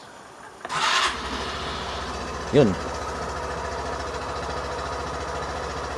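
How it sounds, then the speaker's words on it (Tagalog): Bajaj Pulsar NS400z motorcycle engine cranks and fires up, then settles into a steady, close idle exhaust rumble, with a brief short voice partway through. "I'm sure maraming gustong marinig kung ano ang tunog ng kanyang starting."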